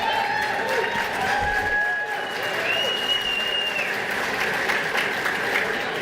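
An audience at the 26th annual DICE Awards ceremony applauds in dense, sustained clapping with cheers and whistles, and voices sound faintly beneath it throughout.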